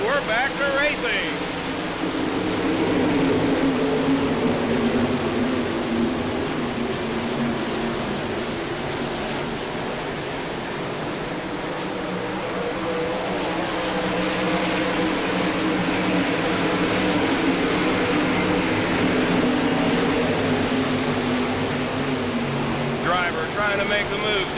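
Sprint cars racing on a dirt oval during a memorial event, a steady broad roar of engines accelerating back to speed after a caution, swelling and fading as the field passes, with an announcer talking throughout.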